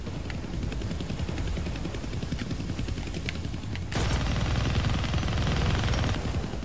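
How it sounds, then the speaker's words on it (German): A helicopter in the Deadpool video game drones as a steady, close rotor roar, with rapid gunfire-like bursts mixed in and the roar swelling slightly louder partway through, with no talk. "I can't kill that chopper with my guns, but I can scare him."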